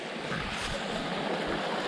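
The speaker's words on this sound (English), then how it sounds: "I gotta wade across this angry river" A fast, rough mountain stream rushing over rocks: a steady broadband roar of churning water, close and constant, with no voices.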